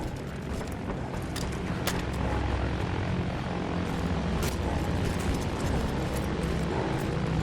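Aircraft flying overhead on a battlefield in the video game Battlefield 1, a loud continuous engine and propeller drone with occasional sharp bursts cutting through.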